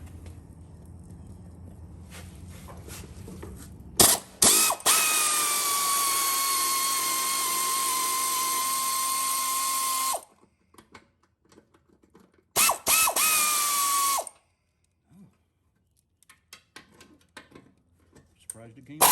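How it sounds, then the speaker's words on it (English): Bolts being driven out of a mower blade bearing with a power tool: a long, loud, high whine of about six seconds, then a shorter second burst after a pause, with faint clicks in between. "These 4 bolts here got to come off now."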